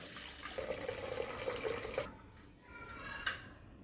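Melted sugar syrup for gulab jamun is strained from a pan into another bowl, a thin trickling stream of liquid for about two seconds, then quieter dripping and faint splashes with no talk.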